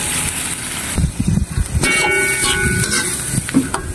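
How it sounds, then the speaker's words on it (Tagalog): Alugbati (Malabar spinach) stems sizzle in a frying pan while a utensil stirs them, giving steady close frying hiss with scraping and clattering strokes and no talk. "Halo-haloin muna natin."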